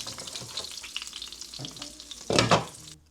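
Meat frying in a pot for a bachelor's tobacco chicken dish, a close steady sizzle with stirring scrapes and clatters and a louder surge of hissing just before it cuts off.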